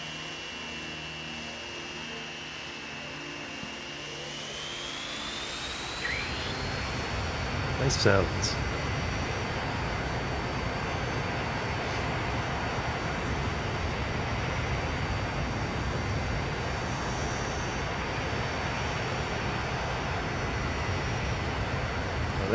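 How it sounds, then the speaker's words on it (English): In the Transport Fever game, an airplane takes off with a rising jet whine that climbs and then holds steady, becoming a loud, sustained engine roar, with a voice talking over it. "I just want to take off from the airplane here."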